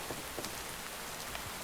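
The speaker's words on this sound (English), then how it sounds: "How come it looks like rain, but it's clearly, like, putting snow down?" Steady rain in the modded Minecraft pack Dawncraft, a dense, even hiss of falling drops with faint patters spread throughout, continuous and close, with no talking.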